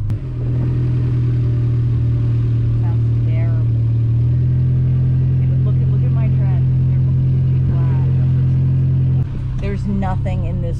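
A Honda Civic engine drones loudly and steadily while off-roading, holding a low hum that shifts pitch partway and drops near the end, as people talk over it.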